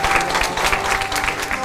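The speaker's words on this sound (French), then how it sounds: "alors un petit applaudissement" A short round of applause with rhythmic, pulsing claps over a steady musical backdrop, fairly loud and close, lasting under two seconds.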